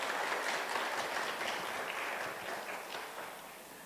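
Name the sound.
applause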